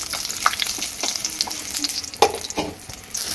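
A whole onion, ginger and garlic fry in a pan, giving off a crackling sizzle broken by sharp pops and stirring scrapes. No one speaks.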